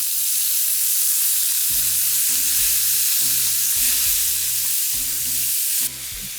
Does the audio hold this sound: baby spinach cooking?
yes